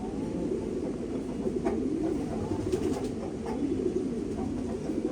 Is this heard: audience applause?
no